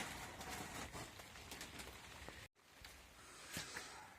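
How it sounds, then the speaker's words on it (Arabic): Steady rain falling outdoors, heard as a dense, continuous hiss of drops with a brief cut in the middle before it resumes just as heavy. "الشتا والحمد لله المحل قطرنا"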